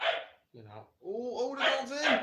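A pet dog barks indoors in a few sharp yips near the microphone while a person excitedly talks over a football match.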